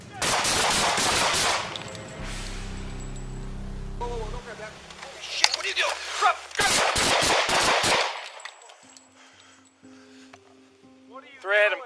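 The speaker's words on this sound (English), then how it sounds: "8 police shots were fired to stop the threat" Police officers fire several rapid gunshots during an armed confrontation with a suspect, in two loud clustered bursts. Between the volleys come tones and people talking and shouting.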